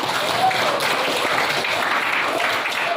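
Steady, dense applause from a class of schoolchildren, many hands clapping evenly and continuously for a few seconds with no voices over it.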